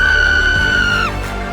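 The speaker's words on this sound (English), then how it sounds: "a blood-curdling scream pierced the silence" A single blood-curdling scream rings out in a silent building, one long, loud, high, piercing cry held steady before it breaks downward and fades, with no talk.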